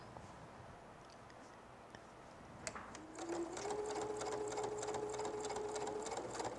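A sewing machine stitches a strip of quilt fabric for a fall table runner, starting after a few quiet seconds and running steadily with a fast, even mechanical whir and ticking, close and clear.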